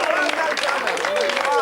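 Studio audience applause on a radio or TV show, a dense, steady clapping with voices mixed in throughout.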